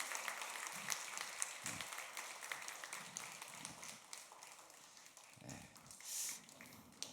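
Steady applause from a large church congregation during a Sunday service fills the whole stretch, a dense wash of clapping with a few low thumps underneath.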